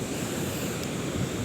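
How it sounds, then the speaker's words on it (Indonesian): Big ocean waves surge at a beach on Simeulue as the tide rises, a loud continuous wash of surf mixed with wind noise. "sudah mulai datang ini ombak-ombak besarnya"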